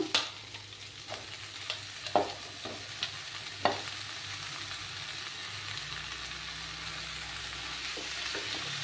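Sliced ridge gourd fries in a pan as it is stirred, a faint steady sizzle with a few soft scraping knocks of the spoon early on, no voices.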